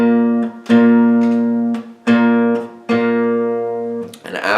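On guitar, hybrid picking sounds two notes an octave apart together, repeated four times in a slow, even rhythm, each pair ringing clearly up close before a brief scrape at the end.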